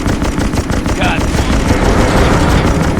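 Rapid gunfire bursts in the naval combat video game Naval Assault: The Killing Tide, loud and dense throughout with booming low rumble, over a continuous battle din.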